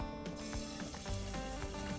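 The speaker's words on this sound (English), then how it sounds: "It's the sound you want when you're searing." Wood duck breasts searing in a hot pan give off a steady, close sizzle and crackle with scattered pops, running continuously without any voices.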